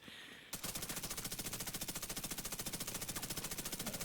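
Hip-fired automatic weapon in the video game The Division 2 rips out a fast, steady stream of loud, evenly spaced shots after a brief quiet start.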